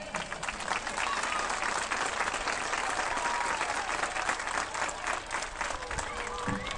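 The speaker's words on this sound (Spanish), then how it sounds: "Un aplauso." Dense, steady applause from a crowd of children and adults at a primary school Peace Day assembly, filling the whole stretch at an even, moderate level with faint voices mixed in.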